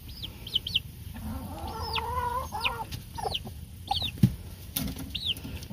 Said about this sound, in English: Roosters or hens?